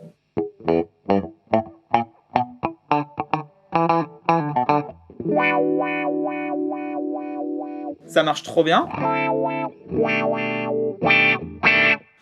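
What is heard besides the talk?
guitar through compressor pedal on a pedalboard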